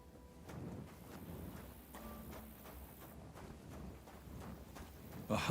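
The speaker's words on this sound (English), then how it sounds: "Somebody untied the horse and led him along the path." Horse hooves clip-clop at a slow walking pace, soft and fairly distant, with a louder rustle near the end.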